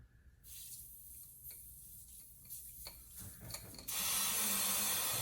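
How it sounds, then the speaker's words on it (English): Air rushes into a vacuum chamber as its vacuum is released during a school Halloween science show, a loud broadband hiss that bursts in and holds steady after a few seconds of quieter clicks and faint mechanical ticking. "I'm going to release the vacuum and watch what happens."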